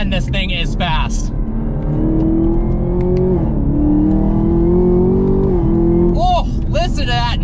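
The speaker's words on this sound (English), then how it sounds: "a lot more supercharger noise entering the cabin than the GT500" A Chevrolet Camaro ZL1 1LE launches hard from 0 to 60 as heard from the cabin, its engine rising in a steady, loud pull with supercharger whine above it. Excited voices break in at the start and at the end.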